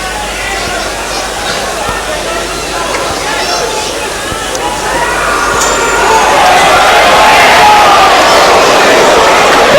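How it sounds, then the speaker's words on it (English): A 1984 football crowd at Grimsby Town against Oxford United buzzes and chants in a stadium, a broad murmur that swells louder toward the end, with a commentator talking over it. "Crowd still buzzing about that second goal of Oxford's"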